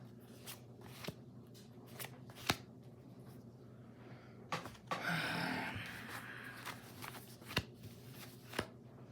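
Tarot cards are shuffled in a quiet room: soft riffles and taps recur through the clip, with a longer, fuller shuffling burst in the middle and sharp card snaps near the end.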